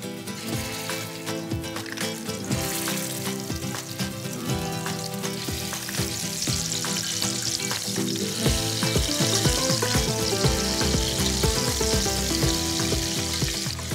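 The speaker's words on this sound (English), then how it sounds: "So we've got that nice sear and lock in the flavor for the meatballs." Meatballs sear in a frying pan, a continuous close sizzle with crackling bursts and clicks that thickens and grows louder over time; no talking.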